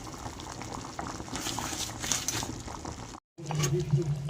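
Meat for restaurant-style biryani boils in a pot, a loud close bubbling that keeps up steadily, cut by a brief dropout before bubbling resumes under a nearby voice.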